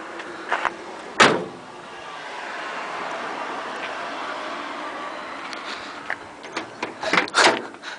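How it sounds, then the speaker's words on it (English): A door on a 1970 Pontiac Bonneville ambulance unlatches with a sharp clunk, then a steady hiss of background noise, followed by a few rattling knocks and a second door thud. "Another door that's unlocked here"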